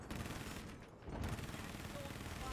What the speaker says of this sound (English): I noticed there's 25 mil cannon shots coming over from the left, the north side of the map there